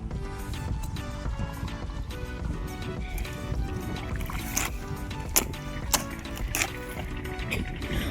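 Irrigation water runs into a winter cumin field in a steady, close rushing and splashing flow that continues without a break throughout.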